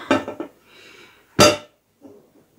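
A serving plate handled while flipping an almond and lemon cake: a few close, sharp clinks and knocks of tableware, with short pauses between them.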